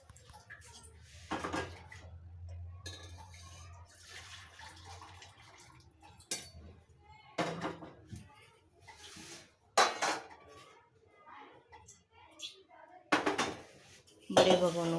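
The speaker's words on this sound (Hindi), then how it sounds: "तो ऐसे करके अब मैं इस बड़े भगोने में दूध है तो उसको ट्रांसफ़र कर" Metal cooking pots are handled in a home kitchen while milk is poured from a large pot into a smaller one: sharp clanks and clinks come in scattered bursts, close and loud, with quieter shuffling and liquid sounds between.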